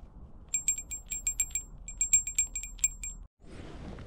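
A small bell taped to a fishing rod as a bite alarm, used while fishing for burbot, jingles in rapid, bright bursts, two quick groups of shakes close by, then falls silent.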